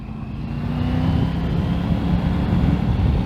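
Triumph Tiger 900 Rally Pro motorcycle being ridden on the road, a steady, continuous engine drone with wind rush, holding an even level throughout.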